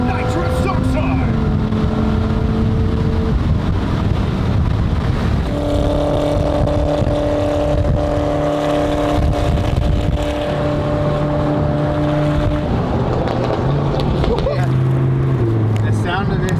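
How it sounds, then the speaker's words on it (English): Ford GT sports car fitted with nitrous, its engine droning loud and close, holding steady tones and stepping through pitch changes across the run, with a brief rev near the end. "The sound of this car is unreal."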